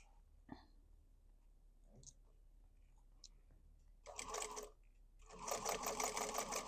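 Sewing machine stitching the base of a handmade fabric basket: a few soft clicks, then a short burst of stitching and a longer steady run of fast mechanical whirring, close and clear.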